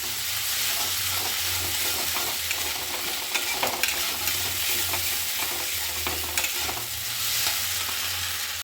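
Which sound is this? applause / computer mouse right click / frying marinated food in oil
frying marinated food in oil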